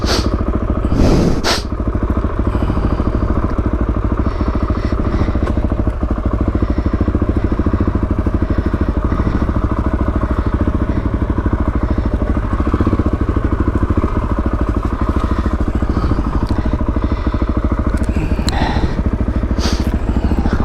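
A Suzuki DRZ400E motorcycle runs loud and close while greenlaning off-road, its engine droning steadily throughout with occasional clattering thumps from the rough track.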